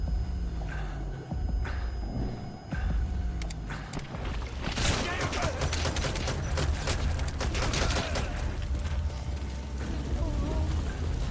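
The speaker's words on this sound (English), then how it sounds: "Shotgun." Shotgun blasts and rapid gunfire in the Metal Gear Solid V: The Phantom Pain video game, loud and dense bursts over a steady mechanical hum, with a voice talking throughout.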